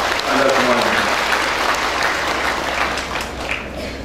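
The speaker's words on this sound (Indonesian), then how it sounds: "Tepuk tangan untuk Anda semuanya." Sustained applause from a large audience at a university graduation ceremony for bachelor's graduates, a steady dense clapping that stays loud for the whole stretch before easing slightly.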